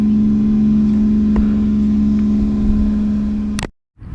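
An Arrma Mojave Grom RC car drives nearby with a steady, high-pitched electric motor whine that holds at an even level, then cuts off abruptly into near silence just before the end.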